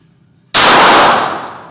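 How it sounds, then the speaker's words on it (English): A single loud, sharp blast from a Glock 21 .45 caliber pistol, fired at a target range, bursts out suddenly after near silence and rings off over about a second. "Right now we're shooting a Glock 21,"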